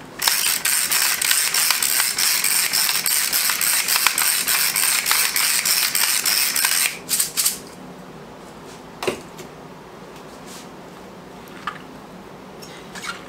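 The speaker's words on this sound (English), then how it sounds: "I want a few turns of black pepper in it." A pepper mill grinds black pepper in a home kitchen, a close, steady ratcheting crunch of several turns that stops abruptly, leaving faint clicks and small handling noises.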